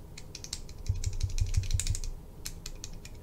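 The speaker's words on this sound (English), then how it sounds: "when the cap's tightened, it's fine, but when you loosen it even a little, it gets really rattly" Loosened cap of a Karas Kustoms Decograph fountain pen rattling, a quick run of small, close clicks and light clatters in irregular bursts, quiet and with no talking.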